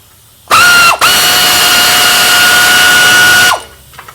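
Compressed-air tool in a workshop, a loud close steady hiss and whine with a brief dip near the start, running about three seconds before cutting off.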